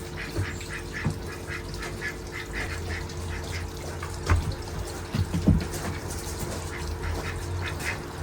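Ducks quack repeatedly at moderate distance over a soft outdoor background beside a fire, with a few louder thumps and rustles mixed in.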